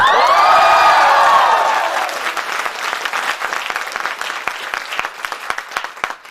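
An audience at a live show bursts into loud applause with cheering and whoops, the cheering fading after a couple of seconds while scattered claps carry on more quietly.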